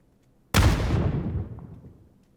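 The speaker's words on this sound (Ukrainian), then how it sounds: "Якісь гранати кидає." A single loud, sudden grenade blast in PUBG with a sharp onset, followed by a rumbling decay that fades over about two seconds.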